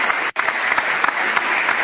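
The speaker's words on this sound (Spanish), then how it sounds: "Aplausos para Javi" Clapping from a small group greeting a guest guitarist on an Instagram live interview, a dense steady patter lasting under two seconds with one brief dropout, with no talk over it.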